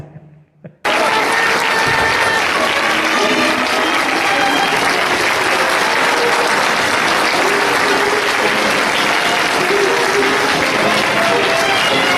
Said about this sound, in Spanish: Oiga más fuerte el aplauso para el grupo Ecos del Tiempo